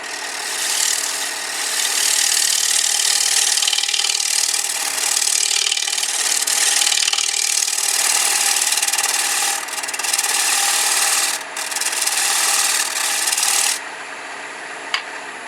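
An 18mm hollowing tool scrapes a spinning wood workpiece on a lathe, a loud, steady, hissing rasp with the motor humming underneath and brief dips as the tool lifts off.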